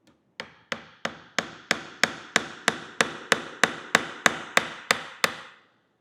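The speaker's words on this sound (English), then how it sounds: "I'm holding the nail kind of at the bottom so that I make sure I don't hit my fingers as I'm using the hammer." Hammer driving a nail into wood while a wooden toolbox is assembled: about sixteen sharp, evenly spaced strikes, close and clear, each ringing briefly, with no talk.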